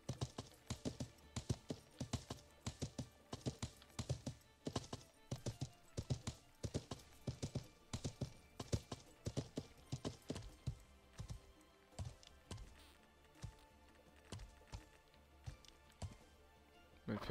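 Horse hooves clopping in the medieval survival game Life is Feudal: Your Own, a steady, fairly close run of rhythmic hoofbeats that continues with hardly a pause and no talk over it.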